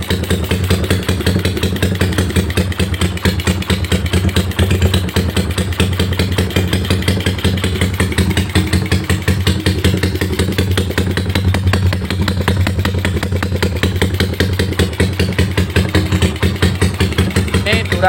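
Tuned, bored-up Yamaha Megapro motorcycle running through a racing exhaust, a steady loud close-up rumble with a rapid uneven firing beat and metallic clatter that holds throughout at idle-to-light revs, no talk over it.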